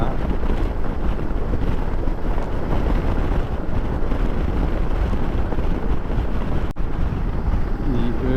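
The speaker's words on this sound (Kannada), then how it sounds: "ಸಿಕ್ಕಾಪಟ್ಟೆ ಗಾಳಿ ಇದೆ" Strong, steady wind roars and buffets the microphone without pause, a loud rumbling rush that fills the whole stretch.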